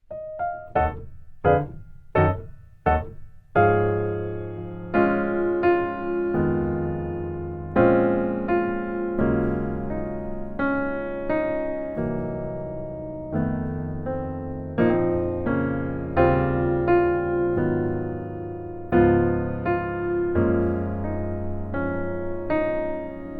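Gospel piano chords play alone, opening with a few sharp staccato hits, then flowing into sustained, rich chord progressions at steady moderate volume.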